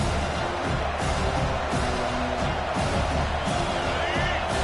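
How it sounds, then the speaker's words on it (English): A football stadium crowd roars to back its defense, a broad, loud, continuous rumble of cheering and whooping with occasional bangs, sounding large and reverberant throughout. "Listen to this crowd just shaking the girders of this place, trying to help their defense"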